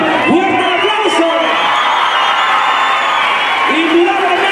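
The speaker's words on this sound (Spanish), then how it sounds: "¡Un aplauso!" A rodeo crowd at Rancho La Candelaria applauds and cheers for a rider, a loud, sustained roar of clapping, whoops and shouting voices close to the listener.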